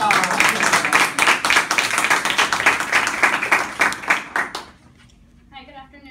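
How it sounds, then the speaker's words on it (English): Audience applause for a student's persuasive speech, many hands clapping in brisk, distinct beats, loud and close, then dying away abruptly near the end into near quiet with faint background sound. "Big round of applause."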